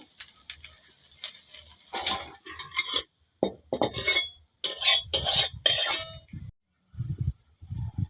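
Lightly browned fried cauliflower being lifted out of a pan with a metal utensil, giving bursts of scraping and clinking against the pan between quiet gaps, with a faint sizzle underneath and no talk.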